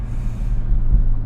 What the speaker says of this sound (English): The final drive in my GT4.